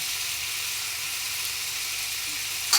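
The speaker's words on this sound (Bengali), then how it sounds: "এবার এটাকে আমি একটু ভেজে নেব সিম্পলভাবে ভেজে নেব" Potatoes seasoned with salt and turmeric fry in a pan for a Bengali potato and lentil dish, giving a continuous close hiss and sizzle with no talking.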